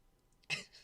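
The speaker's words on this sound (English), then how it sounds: "so sorry I keep coughing" A single short, sharp cough from a person who has been coughing while coming down with a cold, close and sudden in a quiet room.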